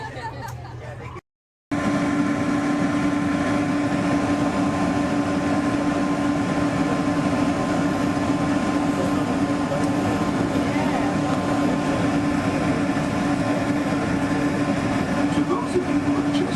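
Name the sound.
Disneyland monorail train riding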